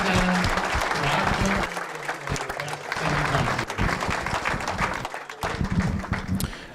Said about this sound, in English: Let's give Steve another round of applause